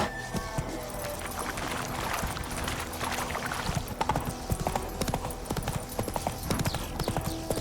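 Roach the horse from The Witcher 3 trotting, hooves clip-clopping in a steady, close rhythm over a busy game soundscape, with no talking.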